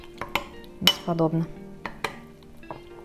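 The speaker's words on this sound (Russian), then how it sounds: "Все это теперь тщательно-тщательно перемешиваем." Utensil clinking against a bowl while a sauce or mixture for a pollock dish is stirred, a few sharp clinks and scraping strokes, with a brief spoken comment in between.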